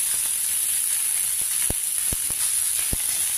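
Young tamarind leaves sauté in hot tempering oil, a steady bright sizzle and hiss with a few sharp pops and crackles scattered through it. No one speaks.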